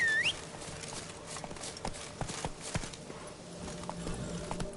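Horse hooves clip-clopping in The Witcher 3: Blood and Wine, a quick irregular run of sharp hoof knocks at moderate distance over a quiet ambient background, with no voices.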